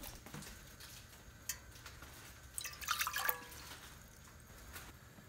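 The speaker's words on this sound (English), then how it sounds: "In a vessel, take 2 cups of water." Water poured into a cooking vessel, two cups' worth: scattered drips first, then a short splashing pour, quiet and close with no talk.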